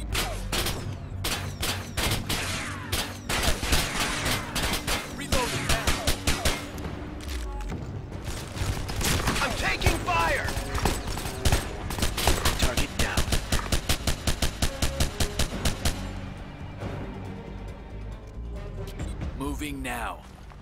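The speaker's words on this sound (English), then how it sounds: "Roger, providing cover fire." Sustained gunfire in the Ghost Recon 2 video game as squadmates lay down cover fire: dense rapid automatic bursts and single shots crackling throughout, loud and close, with radio-style voice callouts mixed in.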